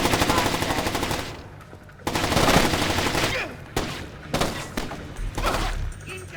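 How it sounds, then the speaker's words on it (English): Rapid bursts of automatic gunfire in the video game Splinter Cell: Chaos Theory, loud and close, with dense volleys broken by brief pauses. "Incoming fire!"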